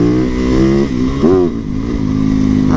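A lightweight, torquey motorcycle accelerates close by, its loud engine note climbing steadily with a brief rev change midway, running alone without talk.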